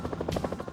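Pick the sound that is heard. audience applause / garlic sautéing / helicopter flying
helicopter flying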